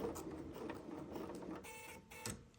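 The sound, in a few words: sewing machine stitching with invisible zipper foot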